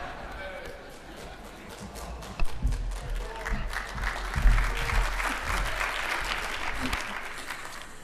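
Scattered clapping from a party conference audience swells into broader applause, heard at moderate distance with some thumps and voices underneath.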